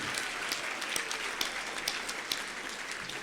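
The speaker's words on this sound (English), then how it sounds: "Let's give another round of applause for those Teachers of the Year." Another round of crowd applause for the 2022 Teachers of the Year at a school district awards event, a full, even clapping with a few sharper individual claps standing out, unaccompanied by voices.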